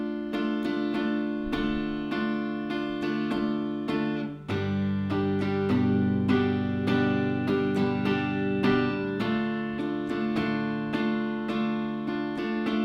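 Guitar strumming a chord progression with mixed downstrokes and upstrokes, a steady, even rhythm of close, quiet strums continuing throughout without any talking.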